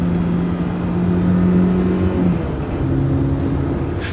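A BMW E30 M3 engine drones steadily, then its pitch jumps and shifts as it blips through a rev-matched downshift, heard from inside the car with no talk.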